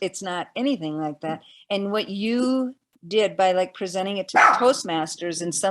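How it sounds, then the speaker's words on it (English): Dogs bark briefly in the background during a podcast conversation, short sharp yaps under continuous talking from several people. "sorry about the dogs."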